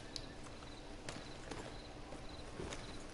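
Horse hooves clip-clopping at a walk in the Red Dead Redemption 2 game world, a few soft, irregular hoof falls close by over a steady outdoor ambience, with no talking.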